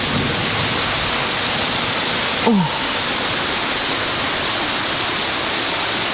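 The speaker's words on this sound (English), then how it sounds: "Listen to that rain." Heavy rain pours down in a steady, dense roar during a storm, loud and continuous throughout, with a brief exclamation from a voice partway through.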